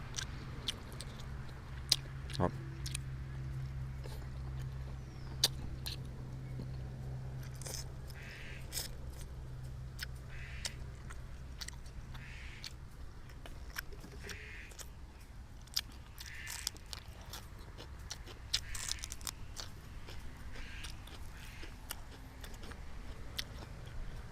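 Someone in Buriram, Thailand chews and bites through a chicken curry with sour bamboo shoots, making quiet, close, irregular crunches and mouth sounds over a faint steady background hum.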